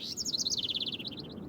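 A small bird chirps in a quick run of bright, evenly spaced tweets that slow toward the end, fairly close and clear against a quiet background.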